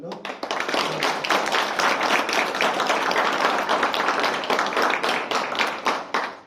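A graduation ceremony audience applauds the puppy raisers, with dense, sustained clapping from a large crowd for several seconds and some voices mixed in.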